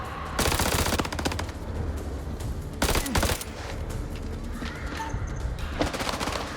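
Gunfire in the horror video game House of Ashes: bursts of rapid automatic fire layered over booming shots and a dense, chaotic battle din, loud and continuous with a few sharper peaks.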